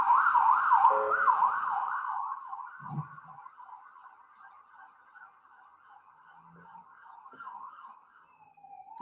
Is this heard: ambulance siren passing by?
yes